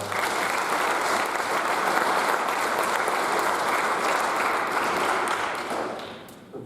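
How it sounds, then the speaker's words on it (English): An audience at a high school baseball awards event applauds in sustained, dense clapping that holds steady for several seconds before tapering off near the end. "If we can give Drew one more round of applause."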